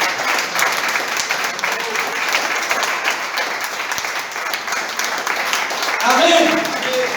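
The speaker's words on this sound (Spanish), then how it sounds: "Aplauda que vive y déle gloria." A church congregation applauds with dense, sustained clapping that fills the room, steady throughout and swelling slightly near the end, with voices mixed into the crowd.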